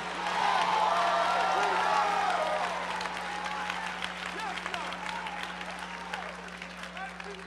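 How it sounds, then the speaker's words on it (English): An audience claps and shouts at a talk, a loud burst of applause and cheering that is strongest for the first two seconds and then settles into a steady, slightly thinner clapping with scattered whoops. "Somebody clap your hands and shout."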